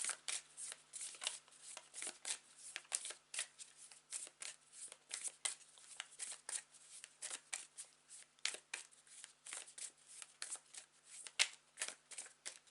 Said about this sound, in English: let me fan out my cards